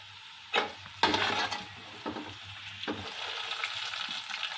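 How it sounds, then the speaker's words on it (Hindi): Whole spices such as black cardamom, star anise, cloves, cinnamon, cumin and bay leaf frying lightly in oil for mutton yakhni pulao, with a soft, steady sizzle broken by several sharp stirring scrapes and knocks. "इन्हें हल्का सा फ्राई कर लेंगे।"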